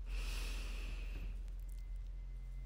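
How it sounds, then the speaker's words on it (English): A nasal exhale during a yoga breathing sequence: a soft, airy rush of breath through the nose lasting over a second, close and steady, then fading to quiet room tone with no talking. "Exhales through the nose."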